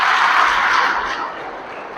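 A school audience applauds a student with a dense, steady clapping that swells briefly then eases off, close and fairly loud.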